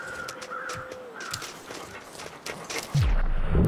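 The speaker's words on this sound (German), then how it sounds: "Da oben höre ich Krähen." Crows cawing in the survival video game The Long Dark, several harsh caws repeating through the first half, moderately close, followed by a heavy thud and a steady rumble.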